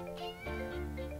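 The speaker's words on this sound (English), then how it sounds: "Oh, she's meowing." A cat meows a couple of times at close range, drawn-out and tonal, with no talking over it.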